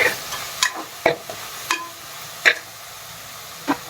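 Ginger and garlic frying in a pan make a soft background sizzle, broken by a handful of sharp, spaced spatula scrapes and taps, with no talking.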